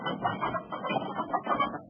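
Hens cluck in a quick, close run of short throaty calls, several bursts packed into under two seconds with no voices.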